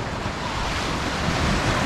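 Sea waves wash below a cliff on the Monaco coast, a continuous broadband surge and hiss with wind mixed in, moderately loud and steady, with no voices.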